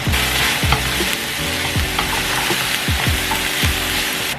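Minced garlic from a jar added to cooked onions in a hot pan, a loud close sizzle and fry with repeated stirring scrapes across the pan, continuous and without talk.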